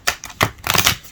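Thick tarot cards being shuffled, a few quick papery riffling bursts close by with short gaps between them, no talking.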